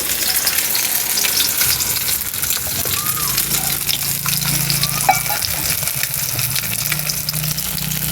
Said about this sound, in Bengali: আপনারা দেখতে পাচ্ছেন এখন মাছ ফ্রাই হচ্ছে।